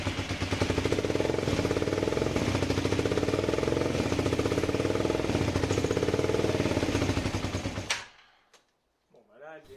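An engine, just repaired after a leak, runs loud and close with a rapid, steady mechanical chatter for about eight seconds, then cuts out abruptly. A voice speaks briefly in the quiet afterwards.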